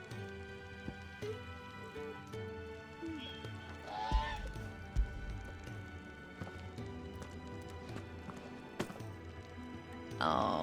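Chocobo birds in Final Fantasy XVI give honking, goose-like calls and clucks with clip-clopping steps around them, moderately close, under talk and game ambience.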